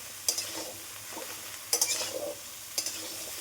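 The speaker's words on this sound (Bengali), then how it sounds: "লাউগুলো দিয়ে একটু নাড়বে চাড়বে।" A utensil stirs bottle gourd pieces frying in a pan, three short scraping strokes over a steady low sizzle, close up with no voices.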